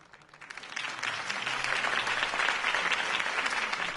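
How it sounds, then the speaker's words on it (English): A crowd in the video game Batman: The Telltale Series breaks into applause, rising quickly from quiet to a steady, dense wash of clapping that continues to the end. "could have heard that applause"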